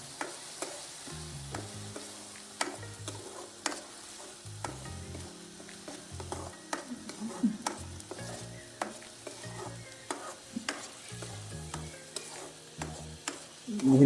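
Tomato puree frying in oil, sizzling steadily for about fourteen seconds while a utensil stirs it with repeated scraping strokes and clinks, close and fairly loud, no talking.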